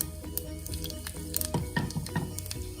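Cumin seeds (jeera) sizzle in hot oil as mustard greens saag is cooked, giving a steady crackling fry with a few sharper pops and faint stirring, close and without talk.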